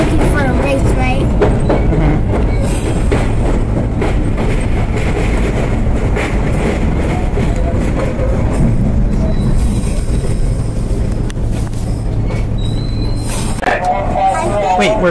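An R32 J subway train rides along with steady rumbling wheels, clatter and squealing, slowing toward a stop near the end, heard from inside the car under continuous loud rail noise.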